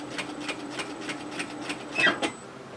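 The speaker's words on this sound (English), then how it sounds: "So all I'm doing is stitching here," A sewing machine stitches a seam on a relaxed pullover hoodie in a slow series of evenly spaced, soft needle thumps, with a slightly louder burst near the end.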